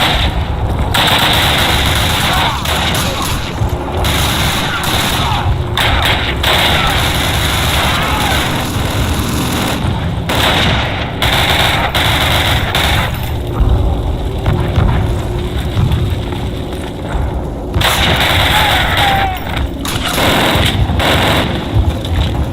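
Sustained machine gun fire from the World War II shooter Call of Duty, loud and nearly continuous with rapid bursts layered over battlefield noise, with a player occasionally talking underneath.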